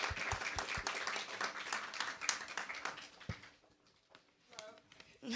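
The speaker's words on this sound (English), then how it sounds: "give a round of applause for our instructor, Janet Wade" A small audience at a show claps a round of welcome for instructor Janet Wade. The clapping is moderately loud and busy, with a few sharp individual claps, then it thins and dies away, and faint voices follow.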